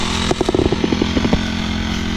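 A small two-stroke grass cutter engine runs nearby, sputtering in a quick burst of pulses before settling into a steady buzzing idle.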